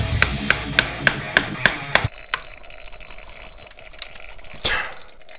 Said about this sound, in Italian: Cacciavite, martello.